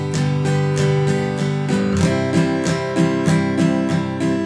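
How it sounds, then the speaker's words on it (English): An acoustic guitar is strummed hitting all strings on every up and down stroke, a steady, even rhythm of full chords played close and loud with no talking. "if I play all of the strings on every up and down stroke, it'll sound like this."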